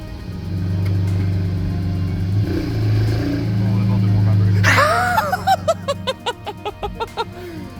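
A VW MK7 GTI fitted with a BFI Stage 1 dogbone mount insert idles, then is put in gear and inches backward. A low engine hum sits under talk and laughter, followed by a squeal and a run of short clicks.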